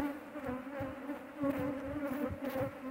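Honey bees buzz steadily at an apiary that yields red propolis, a dense, close swarm drone with shifting intensity and no talk throughout.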